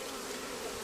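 Honeybees in an open hive during an inspection make a dense, steady buzzing drone, close and continuous, with no voices.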